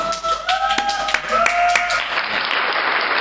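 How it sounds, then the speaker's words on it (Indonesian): Applause at a student podcast opening, a dense burst of clapping hands that swells and fills the room for a few seconds, with a short tonal chime over the start. "Tepuk tangan untuk kita semua."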